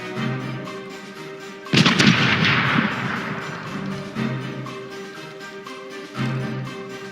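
Ship cannons fire in the pirate game Corsairs Legacy: one heavy booming blast with a long rumbling decay, followed by two lighter distant booms, with no talking.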